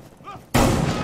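Gunfire from the video game Rainbow Six erupts as a sudden loud burst halfway through, following a brief quieter stretch, and stays dense and sustained to the end.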